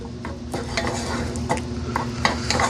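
Rice with garlic powder and olive oil is stirred in a pan, a utensil scraping and clacking in rhythmic strokes over a soft continuous sizzle, close and clear with no voices.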